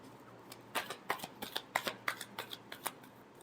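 Tarot cards being shuffled during a weekly horoscope reading, a rapid series of crisp riffling snaps and flutters repeating about a dozen times, close and fairly quiet, with no talk.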